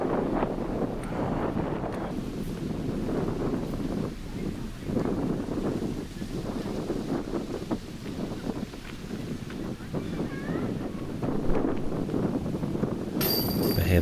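Steady wind buffets the microphone on an open disc golf course in Rockwall, Texas, a loud, continuous rushing roar with gusty swells, with a voice faintly talking beneath it.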